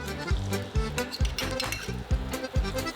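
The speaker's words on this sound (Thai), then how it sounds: "เราก็จะใส่พริกกระเทียมที่เราสับละเอียดไว้ลงไปผัดเลยค่ะ" Finely chopped chili and garlic stir-fried in hot vegetable oil for a pork and bamboo-shoot stir-fry, with regular metallic clanks of a spatula striking the pan about twice a second over a quiet sizzle.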